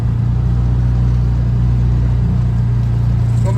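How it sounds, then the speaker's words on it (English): Vehicle driving on snow-drifted rural roads after a snowstorm, engine and road rumble a steady, loud, low drone throughout with no talking. "Out for a ride after the snowstorm"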